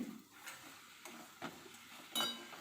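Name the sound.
stirring fish head muri ghonto in a pan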